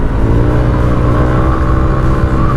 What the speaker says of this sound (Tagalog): Nagda-drop yung RPM niya pag nakagitna.